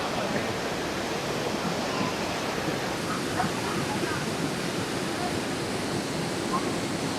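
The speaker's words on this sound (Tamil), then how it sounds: "மேலே இருந்து அருவி கொட்டுதுங்க" Palaruvi Waterfalls in Kerala roars continuously, a dense, steady rush of falling water filling the whole clip with no breaks.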